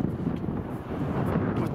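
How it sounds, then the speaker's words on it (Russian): Steady low rushing wind buffeting the microphone on a street in Barnaul, continuous and fairly loud with no other clear sounds. "А это ветер сегодня."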